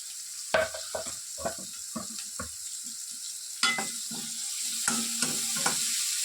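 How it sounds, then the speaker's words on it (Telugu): Sliced onions and green chilies frying in hot oil in a pan, a steady soft sizzle with intermittent stirring scrapes and clatters, close and moderately loud, no voices. "ఆనియన్స్ మరీ ఎక్కువగా మనకు వేగనవసరం లేదండి కాస్త గోల్డెన్ బ్రౌన్ కలర్ వస్తే చాలు"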